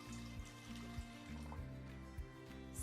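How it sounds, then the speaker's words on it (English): Water being poured into a pot beside a stove and induction cooktop, heard as a soft, continuous close trickle and fill under a steady low background hum, with no voices. "I pour water and leave it into it."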